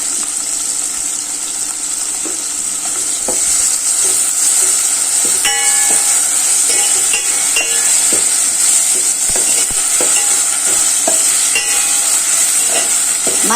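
Ginger garlic paste frying in a pan for mutton kulambu gives a steady, close hiss of oil with occasional sharp crackles and light stirring scrapes, continuous and without talk.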